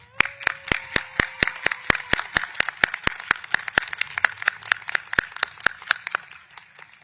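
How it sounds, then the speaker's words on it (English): Applause for retiring faculty and staff at a high school graduation, heard as a crisp, evenly spaced run of sharp claps, close and distinct, tapering off near the end. "let us give them, as well as the rest of the faculty and staff, a very heartfelt round of applause"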